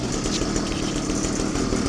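A motorcycle engine running rich and idling right after starting, a steady close, loud mechanical chug holding an even rhythm with no talk over it.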